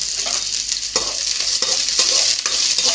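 Small chopped onions frying in a pan while being stirred, a loud steady sizzle with repeated scraping strokes of the spoon at short intervals, close up and alone without talk.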